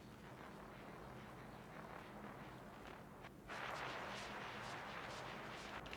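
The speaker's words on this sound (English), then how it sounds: "it's basically just noise, crackly noise, and you have two different delays on both of them" Crackly noise synth patch run through two delays for sound-design ambience, a dense, rumbling wash of grainy crackle that swells louder and brighter partway through, continuous with no talking.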